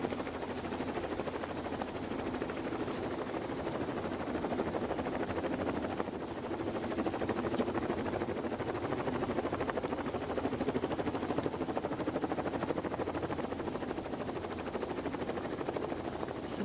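A helicopter filming stage one of the women's Tour of Britain cycling race over Cockermouth drones steadily and faintly throughout, a constant even rotor hum with no talk.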